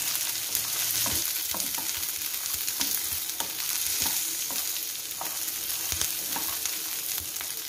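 Peanuts and chillies fry in hot oil while being stirred, a dense steady sizzle dotted with frequent sharp scrapes and knocks of the spoon against the pan, close and loud.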